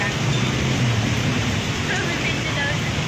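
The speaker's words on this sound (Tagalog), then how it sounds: "Ay, ang lakas ng ulan. Paano kami makauwi nito?" Heavy rain pours in a dense, steady roar with no breaks, close and loud throughout.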